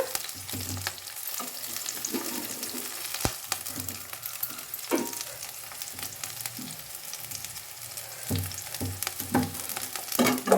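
Chilies and chana dal fry in a pan with a continuous low crackling sizzle, broken by occasional stirring scrapes and clinks of a spoon against the pan, close and moderately loud, with no voices.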